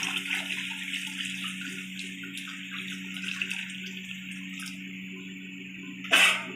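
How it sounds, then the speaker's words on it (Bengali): Water pours steadily into a cooking pot of Basanti pulao over a low gas flame, a close, continuous splashing stream that ends in a brief louder splash. "এবার আমি বাকি তিন কাপ জলও এর মধ্যে অ্যাড করে দিলাম"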